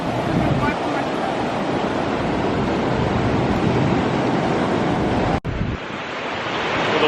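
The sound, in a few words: ocean waves on the beach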